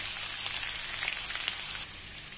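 Potatoes with hing sizzling in a pan as they are stirred, a brief, soft, steady frying hiss that drops slightly near the end.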